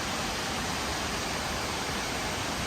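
A large waterfall near Lake Bohinj in Slovenia, reached by a long climb up steps, roars as a steady, dense rush of water close by, with no voices over it.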